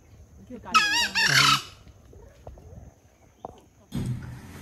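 A rooster crows once nearby, a loud rising-and-falling cock-a-doodle-doo in a quiet outdoor setting in Bali, followed by faint background stirrings and a brief burst of other noise at the end.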